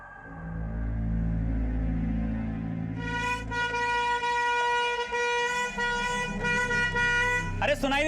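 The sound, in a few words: vehicle horn honking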